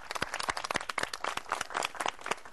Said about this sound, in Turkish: Allah! Alkış!